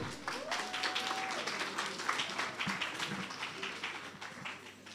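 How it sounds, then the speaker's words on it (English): An award ceremony audience claps in a dense, moderate wash of applause that continues throughout with a faint tone in the background. "round of applause, people."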